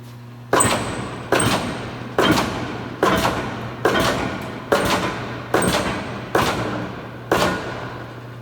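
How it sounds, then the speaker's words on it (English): A 60-ton Minster No. 6 mechanical press running in inch mode delivers eight evenly spaced heavy thumps, each with a ringing decay, over a steady low machine hum. "Here's a video of our 60-ton Minster machine 5846. We'll run it on inch mode."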